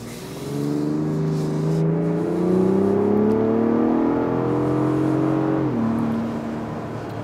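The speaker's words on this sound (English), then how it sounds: "We are gonna drive it in sport mode so we can get a little bit of that exhaust sound" An SUV with a 3.5 EcoBoost engine revs up steadily in sport mode with a rising, throaty exhaust note, holding strong before dropping sharply near the end, close and loud with no talking.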